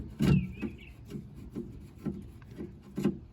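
Screws being turned out of a speaker mount in a 1986 Jeep Grand Wagoneer, a series of soft, close scraping rasps repeating roughly every half second.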